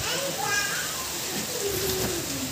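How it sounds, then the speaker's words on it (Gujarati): Rain begins to fall as a steady, broad hiss that fills the whole stretch, with children's voices and chatter audible over it. "જો વરસાદ ચાલુ થઈ ગયો છે."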